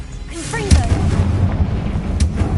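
The Confringo fire spell bursts in Hogwarts Legacy, a heavy booming blast followed by a rumbling, crackling tail. Quieter game effects play beforehand, and the level stays loud to the end of the clip.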